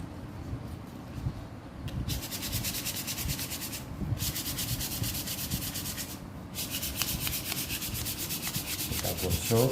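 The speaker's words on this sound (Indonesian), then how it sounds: "Kemudian baru kita ambil amplas teman-teman." Sandpaper rubbed back and forth over the wooden middle wing bone of a bird model, a steady close scratchy sanding with brief pauses around four and six seconds, no talking.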